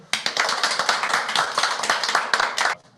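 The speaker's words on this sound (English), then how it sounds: "Round of applause, everybody." A small group of people clapping together in a round of applause as a snack delivery arrives for Cole, dense steady hand claps that run for about three seconds and then break off abruptly.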